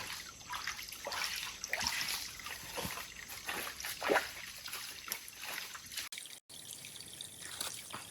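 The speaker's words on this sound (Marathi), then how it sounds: "आपण रस्ता करू बारी बारीक जेणेकरून पाणी वाहता राहील" Water trickles and drips steadily through a small hand-dug channel on a forest campsite, a close, soft continuous flow with scattered drops and no talk.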